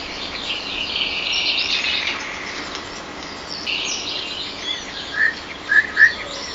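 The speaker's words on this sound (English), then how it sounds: "the birds chirping, actually pretty good" AI-generated bird chirping effect: bright, high tweets over a soft airy bed, growing into a few sharp, closer chirps near the end, with no voices.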